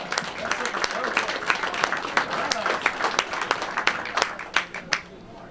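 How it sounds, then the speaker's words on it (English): A crowd claps and applauds for a man named Steve Barker and his 43-foot Nortec boat, with a steady roll of hand claps at moderate loudness under voices talking. "How about a round of applause for 43-foot Nortec Steve Barker"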